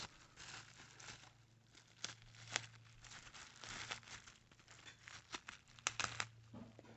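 Topps Now card packaging is cut open with scissors, producing close, quiet crinkling, plastic rustles and sharp little snips scattered irregularly over several seconds.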